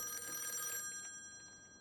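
A telephone rings in an office, its bright electronic bell trilling steadily for under a second before fading out, with no other sounds around it.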